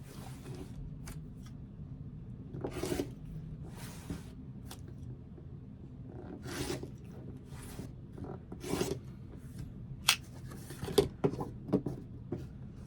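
Trimming a quilt block with a rotary cutter against a ruler: repeated short scraping, rasping strokes in an uneven rhythm over a low room hum, close and moderately quiet, no talking.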